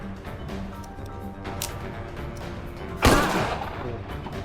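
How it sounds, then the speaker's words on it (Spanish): A single loud shotgun blast booms midway through Empire of Sin gameplay, standing out sharply from quieter game background noise and fading quickly. "el disparo fuerte de escopeta"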